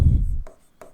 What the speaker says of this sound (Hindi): हम इधर लिख रहे हैं, यहां एक स्टेप यहां लिखते हैं